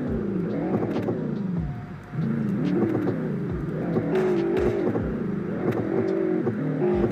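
A car engine revving hard close by, rising and falling in several bursts with crackling exhaust pops between the revs and no talking over it.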